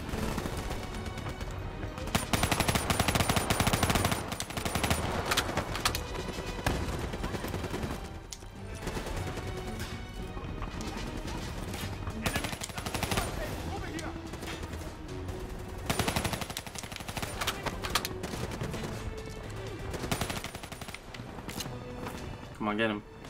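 Dense gunfire fills a Black Ops 3 battle, with rapid automatic bursts and repeated shots running nearly nonstop. It sits under excited talk and shouting in the game.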